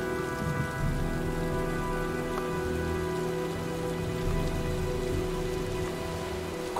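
Rain in the video game Heavy Rain: steady, dense rainfall patters across surfaces at a constant moderate level, with a faint low rumble beneath and no voices.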